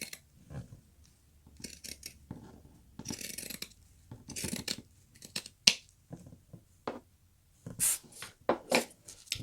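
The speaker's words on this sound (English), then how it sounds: "You can clip the curves, or you can use a pair of pinking shears, which is much easier." Pinking shears trimming fabric close to a sewn stitch line, with a series of crisp, close crunching snips at an uneven pace, separated by short quiet pauses.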